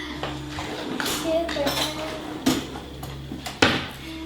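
A metal spoon clinks against a dish of Armenian harissa, a few sharp separate knocks and scrapes close by, with faint kitchen noise and a little background voice.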